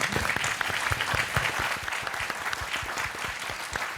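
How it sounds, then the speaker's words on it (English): An audience claps for a Navy parachute rigger at a leadership prize event, a dense, steady round of applause from a sizable crowd lasting throughout, with no speech over it. "stand up so people can applaud you"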